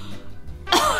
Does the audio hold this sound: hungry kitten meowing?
no